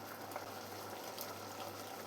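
A masala curry simmers in a pot for a Kerala sadhya meal, giving a steady, faint bubbling hiss that runs without break and with no talk.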